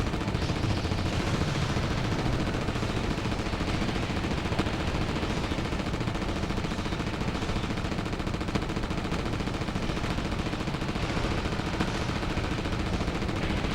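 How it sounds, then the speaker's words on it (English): Continuous machine gun fire from the PS2 game Reign of Fire, a dense, unbroken rattling roar held at constant loudness throughout with no pauses. "you got machine gun fire"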